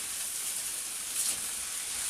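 Fried rice sizzles in oil in a pan, a steady hissing fry at a moderate level, with no one talking.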